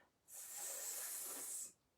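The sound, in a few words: storyteller imitating a hiss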